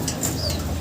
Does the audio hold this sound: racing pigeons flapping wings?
yes